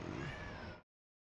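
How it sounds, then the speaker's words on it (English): A pet cat gives a single drawn-out meow, close and clear, that ends abruptly into silence. "Man, my cat really missed me yesterday."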